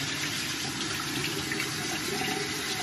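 Tap water runs steadily from a bathroom faucet while a mint julep face scrub is rinsed off, a continuous broadband splashing hiss with no talk.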